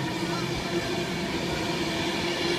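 A Pendolino train passes at Stafford with a steady, broad rushing roar that holds an even level throughout the short stretch, plus a faint tonal whine above the rumble.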